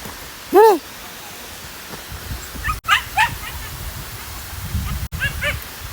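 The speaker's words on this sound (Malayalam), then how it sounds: "പട്ടിയുടെ കളിച്ച് കേൾക്കുന്നുണ്ട്" A dog yelps and yips in a few short, whiny bursts near a reservoir by Kundaru Dam, with a low murmur of people bathing in the background.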